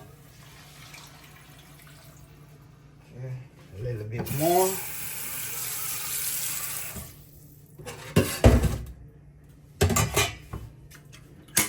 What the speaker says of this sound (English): I'm gonna add in some water to this, guys.